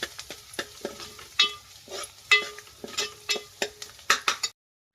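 Chopped onion sizzles in a hot pan while a spoon or spatula scrapes and stirs it in quick, irregular strokes, close and fairly loud, stopping abruptly at the end.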